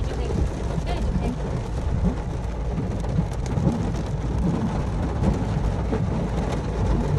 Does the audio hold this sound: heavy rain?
yes